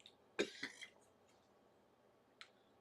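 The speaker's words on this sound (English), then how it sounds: "I'm trying to suppress a cough here" A single stifled cough bursts out once, fairly close, followed by a couple of smaller catches and a faint later click in an otherwise quiet room with no talking.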